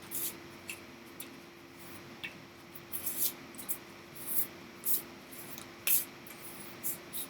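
Witcher-themed tarot cards being shuffled, with soft scattered riffles and light flicks of card stock, close and quiet against a faint steady hum.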